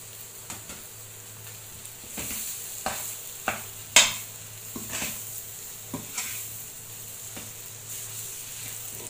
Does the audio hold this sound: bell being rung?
no